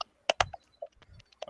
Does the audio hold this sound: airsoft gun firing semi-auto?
no